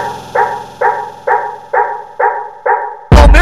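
A dog barks six times at an even, steady rhythm as a sound effect in a Brazilian funk track, loud and close, then a heavy bass-laden beat crashes in at the end.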